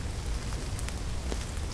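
Rain falls on a garden as a steady, dense patter with scattered distinct drops, continuous and even throughout.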